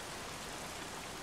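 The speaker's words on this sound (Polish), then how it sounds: "Pieprzony deszcz, cały zmokłem." Steady rain pouring in the Heavy Rain video game, a dense, even hiss of falling water filling the whole short stretch, close and uniform with no voices over it.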